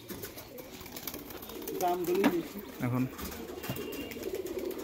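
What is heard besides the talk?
high-flying pigeons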